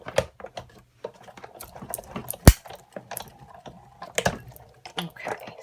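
A hand-cranked die-cutting machine rolls paper and cutting pads through, giving close, irregular clicks, ratcheting ticks and one sharp clack as the crank turns.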